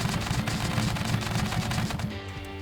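A potato-firing gatling gun in the video game Scrap Mechanic fires in a rapid, continuous mechanical rattle of shots, loud and close, sustained for the whole stretch with no talking.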